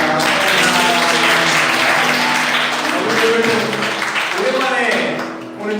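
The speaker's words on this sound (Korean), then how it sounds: "자, 우리 환영의 박수 하도록 하겠습니다." Welcoming applause from a church youth group greeting new members, a full, sustained round of clapping with cheering voices mixed in, fading near the end as someone speaks.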